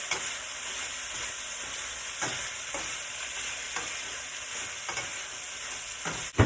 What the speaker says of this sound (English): And you're going to let it fry for about another 5 minutes. But we're going to mix it all together.